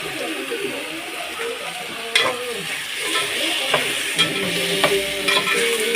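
Chicken frying in a pan with little oil, a steady close sizzle broken by the scrape and clatter of stirring, with sharper knocks every second or so and no voices.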